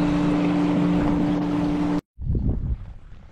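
Boat motor on Lielauce lake, heard as a steady droning rumble with wind noise for about two seconds, then a sharp cut and a lower, rougher engine churn close by.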